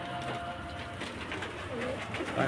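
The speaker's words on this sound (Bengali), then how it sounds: "আস্তে আস্তে দেখাচ্ছি পায়রাগুলো" Pigeons kept in a loft give low, throaty coos, faint and partly blurred into a steady background rumble. No speech is heard.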